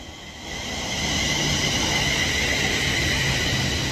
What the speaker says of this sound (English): Now arriving in is going to be the delayed 1358 London Northwestern Railway service to Liverpool Lime Street